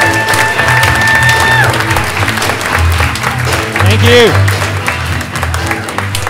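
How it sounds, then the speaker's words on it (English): Applause and cheering from a show audience greeting the professor at a comedy class show in Sarasota, a steady loud wash of clapping with a brief spoken thanks near the end and some background music. "big round of applause for the professor"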